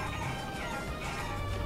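Chicken clucking from the video game Guacamelee! Super Turbo Championship Edition, heard as faint clucks buried in a dense, steady wash of game sound with no talking.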